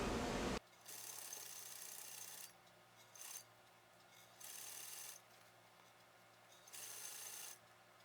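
A sewing machine stitches around the edge of a fabric book sleeve in several separate runs, each a quiet, even mechanical whir lasting one to two seconds, with soft pauses between them.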